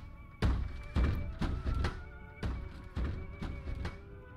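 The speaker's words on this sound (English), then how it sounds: "Bang bang. I'm playing the drum." A drum struck in the video game Find Yourself, about eight heavy thumping hits in an uneven pattern, each ringing briefly, close and fairly loud with almost no talk.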